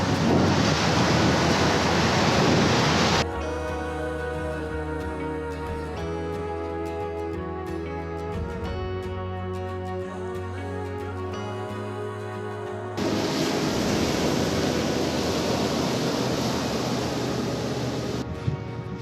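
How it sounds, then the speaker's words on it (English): Atlantic Ocean surf rolls onto a beach as a continuous roar of breaking waves, loud and close, with buffeting wind noise across the microphone. "The Atlantic waters are clear and inviting, with gentle to moderate waves depending on the season."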